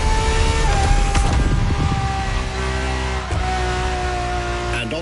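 A Ferrari LaFerrari hybrid in The Crew Motorfest holds a loud, steady high engine drone with a shifting pitch, near and continuous, with no speech.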